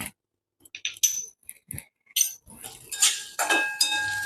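A spoon mixes onion, turmeric and powdered sugar for a puffed rice snack, giving irregular metallic clinks and scrapes against a bowl. The sound is close, with short pauses between strokes and a busier stretch of scraping near the end.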